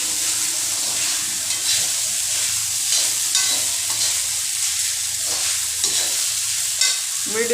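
Sabudana (tapioca pearls) is sautéed with chillies over a medium gas flame, giving a steady hissing sizzle with repeated scraping stirs in the pan, close and continuous.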